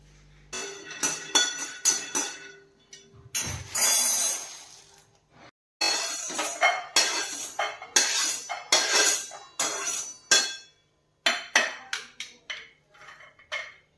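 Peanuts roast dry in a pan for masala poha, rattling and clinking in bursts as a spoon stirs and tosses them, close and crisp with short pauses between strokes.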